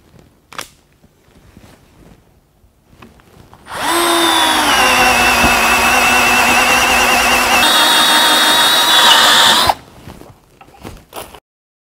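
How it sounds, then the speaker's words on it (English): A Bosch GSR 1080-2 Li drill/driver bores into wood with a loud, steady whine lasting about six seconds. The pitch shifts partway through, and faint handling clicks come before and after. "The maximum drilling diameter into wood is 19 millimeters."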